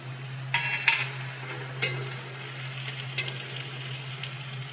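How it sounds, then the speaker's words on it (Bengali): Onion and whole cumin dropped into hot mustard oil, sizzling steadily with a few sharp crackles and a light clink of a utensil near the start, no talking. "সর্ষের তেল নিয়েছি। এবার দিয়ে দেব পেঁয়াজ, গোটা জিরে"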